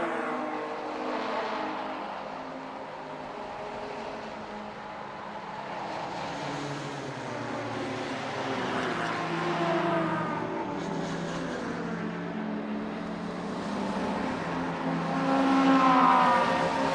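Touring race cars, two BMWs and a Mazda, race in a tight pack at a Baltic championship circuit, engines droning and rising in pitch as they pass, loud and sustained with shifting revs throughout.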